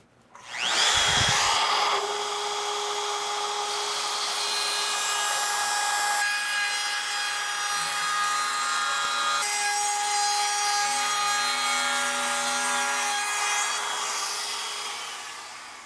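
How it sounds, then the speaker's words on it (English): A router fitted with a pattern bit trims the edge of scrap plywood, spinning up with a sharp whine and then holding a loud, steady, high-pitched cutting scream with slight pitch shifts before winding down. "now I'll just use the pattern bit to cut off the extra little bit there"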